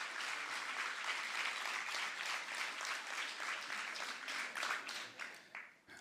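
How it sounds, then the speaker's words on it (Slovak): Audience applause after a folk music ensemble's set at a folklore evening, a steady dense wash of clapping from a crowd that holds for several seconds before tapering off at the end. "Váš potlesk patrí ľudovej hudbe súboru Hornát."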